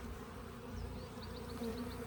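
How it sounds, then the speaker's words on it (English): Steady buzzing of honey bees close by at a top bar hive, a continuous droning hum with occasional higher whines of individual insects passing. "shake the bees off, make sure there's no others"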